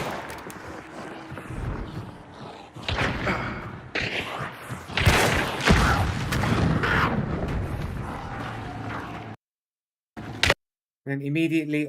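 Loud booming explosion in a first-person shooter game, with heavy thuds and rumbling impacts through most of the stretch, then a sudden silent gap, a brief sharp burst, and a tonal electronic game sound at the end.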